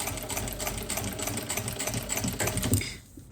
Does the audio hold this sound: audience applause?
no